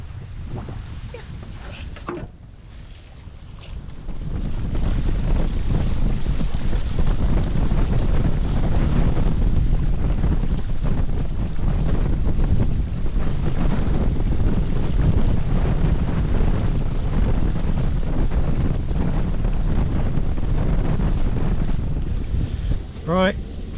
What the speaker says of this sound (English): Wind's just picking up a little for us now, that's good.